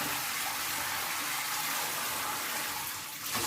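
A newly installed electric shower runs cold, water gushing in a steady rushing hiss that eases slightly near the end, with no talk.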